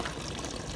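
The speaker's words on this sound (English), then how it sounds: "there's a couple pipes just like this pouring into ponds similar to this" Water from a fountain pipe in Rome pours into a pond below, a steady, soft, close splashing that runs without pause.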